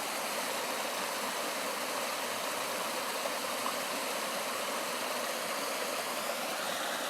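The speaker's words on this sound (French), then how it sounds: "Entendre le son de l'eau." Flowing water, a steady broadband rush like a stream or falling water, constant and fairly loud throughout with no voices.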